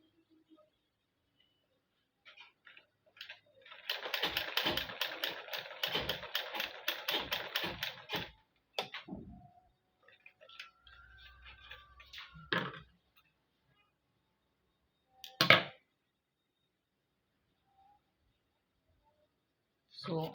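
A sewing machine runs a stitch across fabric in a quick, steady burst of rapid ticking lasting a few seconds, followed by a few isolated taps and thunks.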